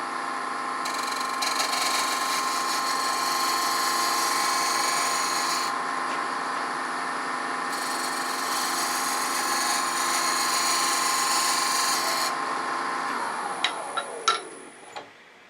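A steady scraping hum of a walnut piece spinning on a lathe as a skew chisel cuts, continuous and fairly loud, winding down with a few clicks at the end.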